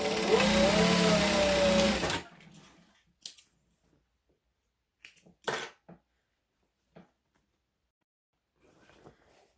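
A sewing machine stitches vinyl for a hobo bag, running in one loud, steady whir for about two seconds before stopping, followed by quiet handling sounds and a few soft clicks, with no speech.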